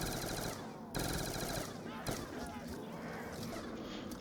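Rapid automatic gunfire from a high-RPM weapon in Black Ops 2 Zombies, a dense continuous burst of shots filling the clip with brief gaps, loud and close amid game sound effects.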